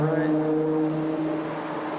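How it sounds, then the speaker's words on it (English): A steady, droning automotive traffic hum runs throughout a backyard, continuous and fairly loud with no breaks. "Sorry about the automotive noise, guys."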